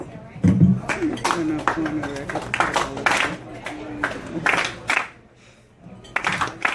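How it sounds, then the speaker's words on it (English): An audience claps along to a short song led by a guest speaker at a breakfast mixer, with uneven bursts of hand claps mixed with singing and voices, and a brief lull before clapping resumes. "Clap your hand like this."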